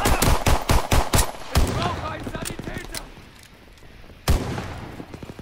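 Rapid automatic gunfire from a submachine gun resembling an MP40 in the Call of Duty WW2 beta, bursts of close shots followed by scattered distant fire and a later heavy blast, with in-game voices mixed in.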